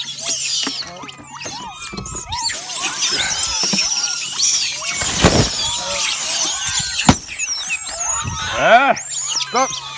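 A troop of monkeys being hand-fed on a hot day shrieks and squeals loudly in overlapping bursts, with sharp scattered screams close by and a voice talking among them.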